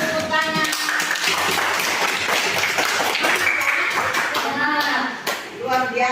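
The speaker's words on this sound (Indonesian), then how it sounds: "Tepuk tangan." Children applaud in a classroom, a dense run of close hand claps lasting several seconds with voices calling out over it.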